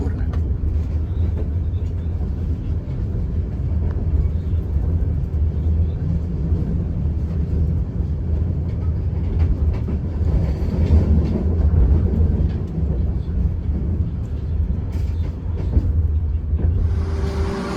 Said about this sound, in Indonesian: Tiba di stasiun Leles Kabupaten Garut kereta api Kahuripan.